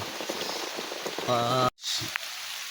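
Heavy rain pours down on a solo campsite with a tent, a dense steady hiss of drops on surfaces, with a voice talking over it partway through.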